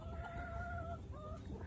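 Silkie hens and their chicks on a ranch give a few faint drawn-out calls and soft clucks over a low rumbling background, quiet and somewhat distant, with no talking.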